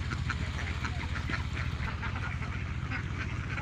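Khaki Campbell-type ducklings quacking in a rapid, busy chorus, many small birds calling close by in quick repeated bursts throughout.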